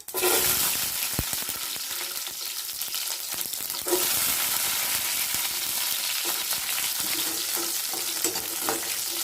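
Mustard seeds spluttering in hot oil left over from frying bitter gourd, a loud constant crackling sizzle that swells sharply at the start and again midway, with scattered pops and no voices.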